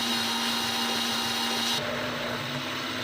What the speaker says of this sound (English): Isn't that a nice blender, though?